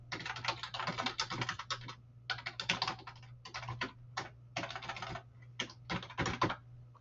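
Rapid bursts of typing on a computer keyboard while filling in a customer entry form, dense clattering runs broken by short pauses, close and clear with no talking.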